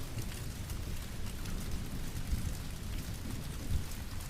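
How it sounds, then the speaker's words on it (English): Heavy rain pours steadily onto a city street at night, a dense, even hiss close by with a low rumble underneath and no voices. "Outside, the rain hit harder, turning the street into a mirror of neon and shadow."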